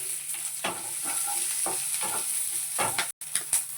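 Green chillies sizzle steadily in a frying pan, a loud continuous hiss broken by a few stirring scrapes, with no voices over it.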